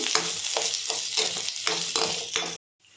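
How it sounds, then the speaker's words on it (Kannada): Two large onions, sliced lengthwise, fry in oil in a pan with a loud, continuous sizzle broken by repeated scraping stirs, then cut off abruptly into near silence before faint hiss returns. "ಈಗ ದೊಡ್ಡ ಸೈಜು 2 ಈರುಳ್ಳಿನ ಉದ್ದುದಕ್ಕೆ ಹೆಚ್ಚಿ ಹಾಕ್ತಾಯಿದ್ದೀನಿ. ಇದನ್ನು ಸ್ವಲ್ಪ ರೋಸ್ಟ್ ಮಾಡ್ಕೋಬೇಕು."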